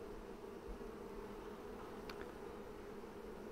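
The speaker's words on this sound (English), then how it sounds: "there's some bees are bringing in beautiful pollen, like this girl here with the yellow on her legs." Honey bees buzz around a Flow Hive as workers return with pollen, a faint steady hum of many wings close by with a brief higher buzz passing near the middle.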